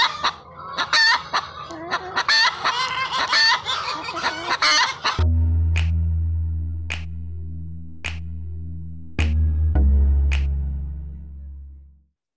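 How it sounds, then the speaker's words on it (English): Chickens cluck rapidly in a loud, close, excited laying cackle for several seconds, followed by repeated sharp single calls over a steady low hum. "you may be able to hear them doing a laying cackle, which is the sound that they make when they lay an egg"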